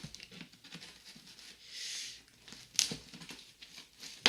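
Unpacking an AF 40 DMX smoke machine from its box and packaging, soft close crinkling and rustling with a longer plastic swish and a few sharp crackles, intermittent and quiet.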